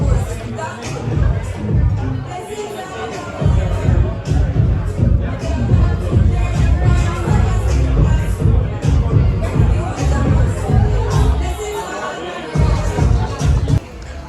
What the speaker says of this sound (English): we got a little crowd outside